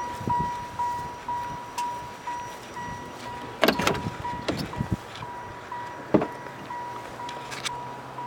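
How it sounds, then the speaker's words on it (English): Power windows on a 1990 Chevrolet Caprice Brougham LS whir in a series of short repeated motor runs, with a few louder door clunks and thumps in between, up close in a quiet setting. "The windows work, the door."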